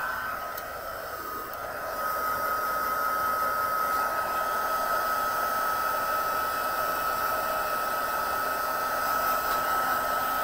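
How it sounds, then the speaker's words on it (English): An embossing heat tool on its high setting blows hot air over cardstock, producing a steady, close whooshing hiss with a faint whine that runs continuously and alone. "Heat tool, best one, right here."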